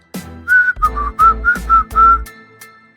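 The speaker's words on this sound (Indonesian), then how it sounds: "orang di atas pohon tidak mau turun, malah kembali bersiul-siul lalu menyanyi lagi" A man up in a tree whistles a melody of several clear, loud notes in a lively rhythm. Faint low thumps sit under the tune.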